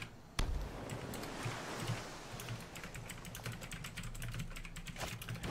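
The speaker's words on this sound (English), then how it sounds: "typing up some stuff" Computer keyboard typing heard up close, a steady stream of quick, light key clicks with brief irregular pauses throughout, no voices.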